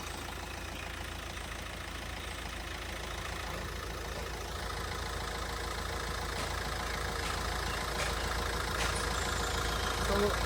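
A 2017 Hyundai Creta 1.6 SX diesel idles steadily with a low, even engine hum that holds constant throughout. A few faint knocks and clicks sit over it, and no one speaks.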